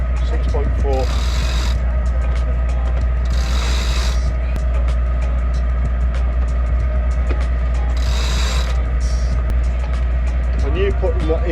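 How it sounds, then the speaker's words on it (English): Inline manual fuel pump on a boat engine being hand-pumped to bleed the fuel line, repeated mechanical clicking strokes over a constant low engine-room hum, with short hissing bursts at intervals. "I knew putting that inline manual fuel pump would be a good idea."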